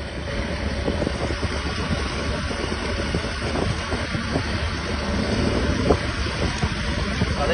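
A motorcycle engine runs steadily near a lakeshore, a continuous close rumble mixed with wind noise and no break in level.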